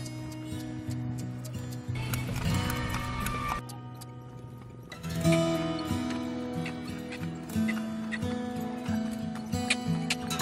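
Horse pulling a delman cart, steady clip-clop of hooves with a neigh and a continuous background hum.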